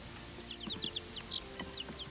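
Chickens cluck softly nearby, a scatter of short chirpy calls and low murmurs over a quiet outdoor background.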